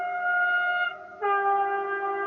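Sustained train horn blasts with a bright chord of steady tones, a long blast, a brief dip, then a second blast, heard clearly at moderate distance with no talking.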